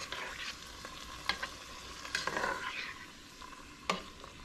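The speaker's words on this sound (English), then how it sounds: "we're going to give these a nice little mix in here" A spoon scrapes and stirs through sizzling food in a pot, with a few sharp clinks against the side.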